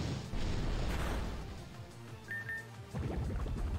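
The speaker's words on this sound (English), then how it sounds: "Shadow punch" Shadow Punch attack effect in the fan-made Pokémon OutBounds game, a soft whooshing impact burst followed by a short electronic chime and a second low thump, playing quietly under game music.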